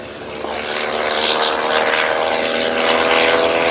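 A Sopwith Triplane's rotary engine and propeller at Old Warden, a loud steady droning roar that swells slightly as the aircraft passes fairly close, with no voices over it.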